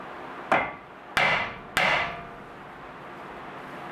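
Three sharp metal hammer strikes ring out one after another on the threaded end of a steering stabilizer on a 1998 Jeep Wrangler TJ, each blow loud and close with a short ringing decay.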